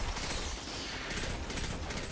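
Burst-fire weapon gunfire in the video game Destiny 2, a dense continuous stream of shots and game effects filling the whole moment at steady loudness, with no speech.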